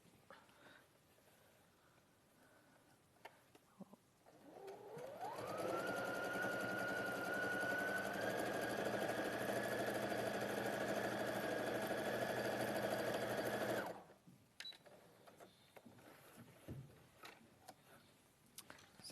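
Sewing machine understitching a garment pocket, whirring up to speed and running steadily for several seconds before stopping, with quiet handling noises around it.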